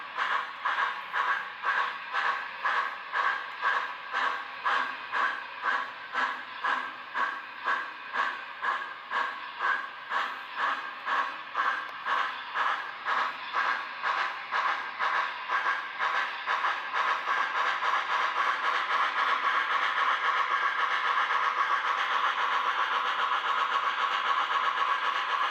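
MTH HO-scale Allegheny H8 2-6-6-6 model steam locomotive running in reverse, giving a rhythmic chuffing hiss that speeds up and smooths into a steady sustained sound, fairly close, with no talking.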